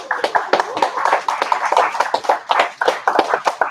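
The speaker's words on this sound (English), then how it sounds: "let's just give a big round of applause for Eric" Scattered, uneven clapping from a small audience, individual hand claps distinct and close with irregular rhythm throughout a few seconds.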